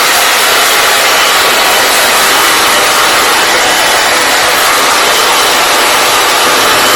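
A hair dryer on medium heat blows steadily and loudly throughout, a constant broadband whoosh with no talking over it.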